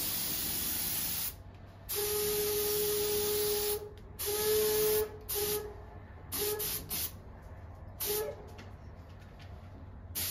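Bursts of pressurized spray from a paint spray gun hiss on and off in several pulses, each a loud steady rush with a faint tonal whine, separated by short quiet gaps.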